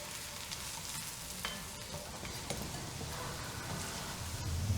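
Finely chopped onion fries in fat in a large pan with a pinch of salt, a continuous soft sizzle and crackle with a few brief clatters, close and fairly quiet, no talk.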